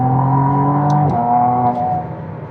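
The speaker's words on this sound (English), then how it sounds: "Now you hear those downshifts? That's an aggressive sound." McLaren Artura Spider 700 hp hybrid supercar downshifting, its loud, close engine note stepping down sharply with a quick blip near the middle, then settling into a steady lower drone.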